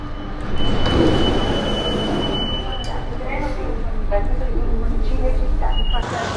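A subway train in Rome rumbles steadily close by, with a faint high wheel whine and brief squeals, under a busy background.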